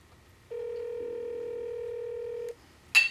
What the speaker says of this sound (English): It's ringing, finally.